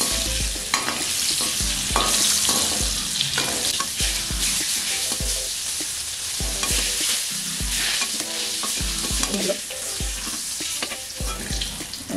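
Paneer pieces fry in a hot pan, sizzling steadily while a utensil stirs and scrapes in repeated rhythmic strokes, close and fairly loud with no talking.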